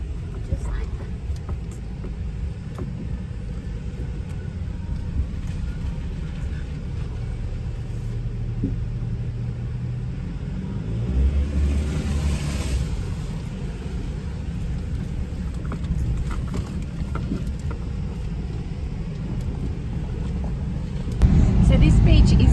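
A vehicle rolls at speed along smooth, flat beach sand on K'Gari (Fraser Island), a steady low rumble of engine and tyres heard from inside, with quiet talk over it.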